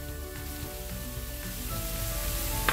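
Steak pieces fry in a pan with a soft, continuous sizzle and crackle, moderately close and even throughout, with no voices.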